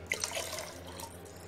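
A cup of water is poured into a pot while making orange muhallabia pudding: a short, close splash and trickle, then a few soft drips as the pour ends, with no talking.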